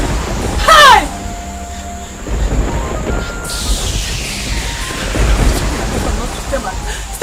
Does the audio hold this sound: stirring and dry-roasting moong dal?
no